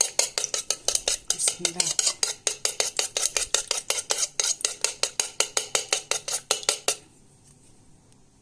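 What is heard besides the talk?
whisking three eggs together in a bowl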